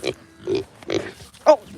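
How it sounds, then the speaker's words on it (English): A baby pig gives several close, short grunts at an uneven pace, with a brief squeal near the end. "Baby pig."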